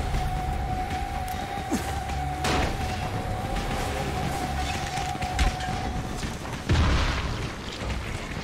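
Small bombs detonate in the zombie survival game Dying Light, a couple of sharp, booming blasts standing out over a steady rumbling game backdrop with a droning tone.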